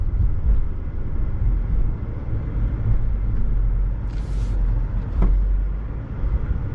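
An AMG E55 Kompressor rolls along the road with a low, steady engine rumble and road noise from inside the cabin, broken by a brief higher hiss partway through.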